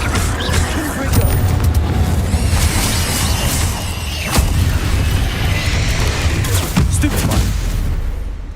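Confringo explosive spell in Hogwarts Legacy, heard as several sharp booming blasts spaced a few seconds apart over a constant heavy rumble of game action.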